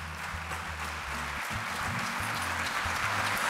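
Applause from the audience at a communist party 40th anniversary rally, a steady dense wash of clapping lasting throughout, with low music-like tones underneath.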